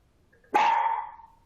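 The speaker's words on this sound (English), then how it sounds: "That's my dog." A dog gives one sharp, clear bark that rings out briefly and fades, heard alone in an otherwise quiet indoor room.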